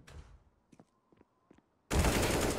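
Gunfire in CS:GO during a NaVi vs MAD Lions match at IEM Beijing: a few faint clicks and a soft tone, then a sudden loud, dense burst of shots that continues to the end.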